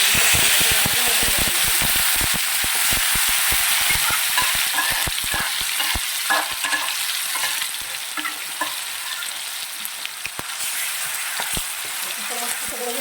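Ginger, garlic and coriander paste sizzles and spatters steadily in hot oil for a vegetable dish, with a dense, continuous frying hiss close by and repeated sharp scraping stirs throughout.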